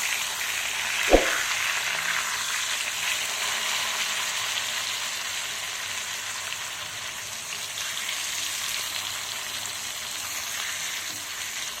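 Rohu fish fries in hot oil after being flipped, giving a steady close hiss and sizzle throughout, with one sharp knock near the start.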